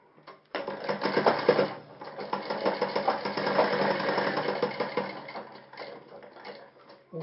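A sewing machine runs steadily through a seam on a shirt collar, its close, fast mechanical chatter starting after a short pause and carrying on with slight dips in speed until just before the end.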